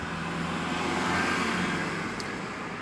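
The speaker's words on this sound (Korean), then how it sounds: "오늘 유난히 차들이 옆에 많이 다닙니다" Cars pass on a nearby road outdoors at night, a steady traffic rumble swelling and fading across a few seconds, moderately loud with no voices.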